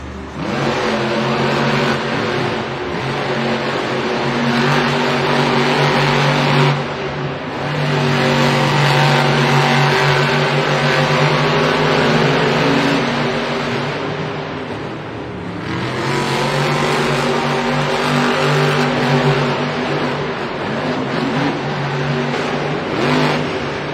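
Monster Jam monster trucks race in a Singapore arena. Loud, continuous engines roar and rev throughout, surging and easing in long waves with a brief dip midway. No voices come through.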